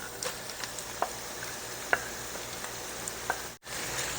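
Steak sizzling in melted butter in a pan, a soft continuous fry with scattered small pops and crackles, close and fairly quiet, with no talking.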